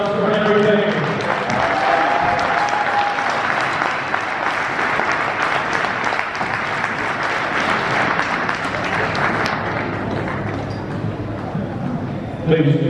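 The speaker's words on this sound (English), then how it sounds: "Let's have one more round of applause for Henry Payne." Sustained crowd applause fills a college gymnasium at a men's basketball jersey retirement ceremony at American International College, loud and steady from start to finish with cheering mixed in.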